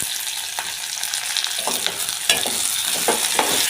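Green chilli, onion, potato, peas and carrot fry in oil, giving a bright continuous sizzle broken by several sharp scraping stirs of the pan. There is no talk.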